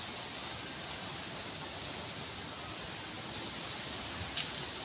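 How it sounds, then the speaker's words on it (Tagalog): Strong wind roars steadily across an outdoor nature boardwalk as rain begins, a dense, continuous rushing wash with no clear voices. "Lakas na ng hangin."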